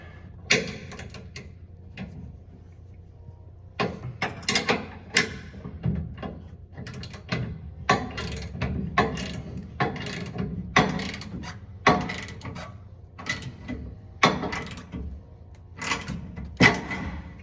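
Ratchet clicking repeatedly while tightening a bolt on a trailer hitch receiver under a 2013 Ford F-150 XL, in irregular bursts of sharp, close mechanical clicks with short pauses, no talking.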